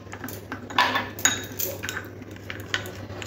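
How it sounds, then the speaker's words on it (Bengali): Coriander, cumin and turmeric powder are stirred with a little water in a small bowl, a spoon clinking and scraping against it in uneven taps, close by and without talking. "এবার অল্প একটু জল দিয়ে ভালো করে মিশিয়ে নেব"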